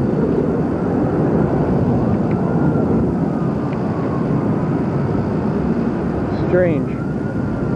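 Jet aircraft afterburners roar overhead high above a city during the September 11 attacks on the World Trade Center, a steady, loud rumbling wash under a brief spoken remark.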